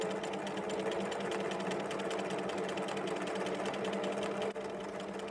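A sewing machine fitted with a free-machine embroidery foot (number 24 foot) runs steadily through quilted fabric, a dense rapid stitching whir that holds constant for the whole stretch with a brief dip near the end.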